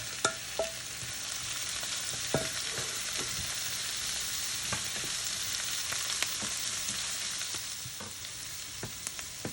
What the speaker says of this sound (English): Followed by the chopped big onions. Once they get sauteed, I will be adding the powdered spices and the coconut.